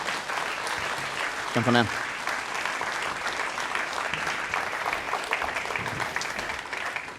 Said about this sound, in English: big round of applause for our speakers, guys